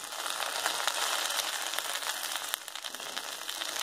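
Okra and onion fry in a pan with oil, giving a steady, close, crackling sizzle that carries on without a break and has no talk over it.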